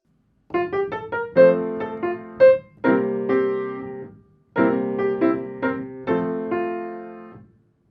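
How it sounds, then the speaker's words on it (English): A piano plays a bouncy, syncopated melody from My Neighbor Totoro over plain block triads, with short and held notes in two phrases, close and clear without voices. "If we were to harmonize this in the most straightforward way, it might sound something like this."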